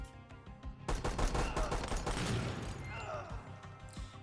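Gunfire in the tactical shooter Door Kickers 2 breaks out as a dense burst of rapid, sharp shots and cracking impacts that fades into scattered reports, with a voice talking over parts of it.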